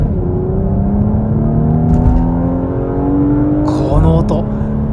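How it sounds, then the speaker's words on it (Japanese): A Porsche Macan GTS SUV in Sport Plus mode accelerates hard away from a highway toll booth, its loud engine note climbing steadily in pitch, then shifting through a gear change near the end, heard close from inside the cabin. "今からスポーツプラスにした状態で高速の料金所ダッシュしてみたいと思いますけど、このバブリング音、そして減速からの"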